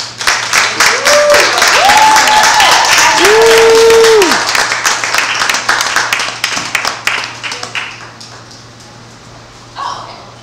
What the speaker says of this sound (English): Let's clap it up for Miss Zanah.